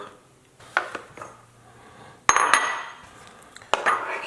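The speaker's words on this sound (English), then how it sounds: "slice up the avocado" A knife slicing avocado on a cutting board, a few scattered clicks and sharper taps with quiet gaps between them.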